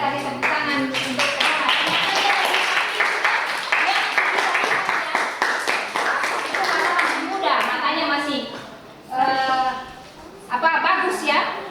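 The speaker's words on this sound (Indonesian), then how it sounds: "kita kasih tepuk tangan untuk" A class of students breaks into brisk applause that runs for several seconds, then trails into scattered claps, with a teacher's and children's voices talking over it.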